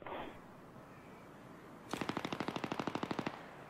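Rapid automatic gunfire in Battlefield 3, a loud, steady burst of about fifteen evenly spaced shots lasting over a second, following a quieter stretch of background game noise.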